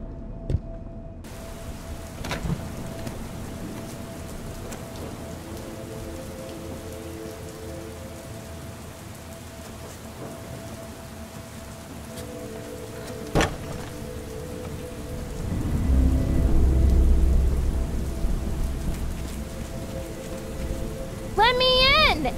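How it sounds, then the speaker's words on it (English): Steady rain in Minecraft patters on a surface throughout, with a low rumble swelling near the end and faint talking underneath. "It's raining!"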